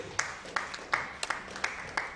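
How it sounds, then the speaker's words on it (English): Scattered applause from a conference audience at an education summit plenary session, a few sparse, distinct claps spaced out, fairly faint and distant in a large hall. "Please a round of applause, please."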